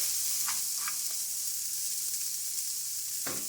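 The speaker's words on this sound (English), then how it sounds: "We're going to saute our onions." Diced onion sautéing in leftover bacon grease in a pan gives a steady, close sizzling hiss, broken by a few brief stirring scrapes, with no talking.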